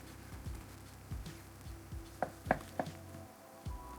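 A knife chopping pork belly into cube-sized chunks on a board, a series of evenly spaced thuds with a few sharper knocks, quiet and close with no talking.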